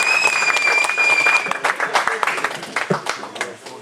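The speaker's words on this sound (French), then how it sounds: "Je vous demande d'applaudir" An audience applauds loudly, the clapping thinning out into scattered claps as it fades.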